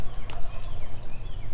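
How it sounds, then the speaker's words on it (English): Wild turkeys gobbling in a field on public land, a quick burst of rattling gobbles at mid distance over steady outdoor background noise. "those birds are gobbling on down this field"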